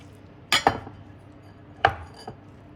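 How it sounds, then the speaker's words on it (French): Crumbly feta cheese is crushed by hand in a kitchen, with a few sharp, close knocks and crunches against a bowl or board, two pairs spaced a second apart and no talking. "J'écrase la feta."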